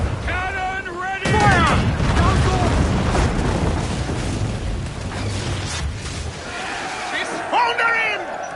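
A heavy boom of ship's cannon fire at sea erupts and rumbles on, framed by shouted voices and game-like effects before and after, from the video game Assassin's Creed IV: Black Flag.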